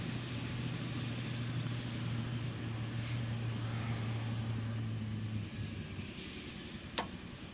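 A steady helicopter engine drone with a low humming tone slowly winds down after running out of fuel, ending with a brief sharp click near the end. Apache Longbow in the video game Arma 3.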